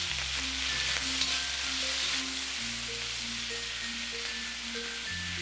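Onions sauté in a pan while making garlic chilli chicken, giving a steady, close sizzle throughout with faint sustained tones in the background.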